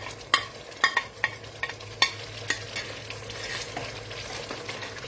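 Finely chopped onions stirred into tomato sauce in a pan, with repeated sharp clinks of a utensil on the pan over a continuous low sizzle, close and without talk.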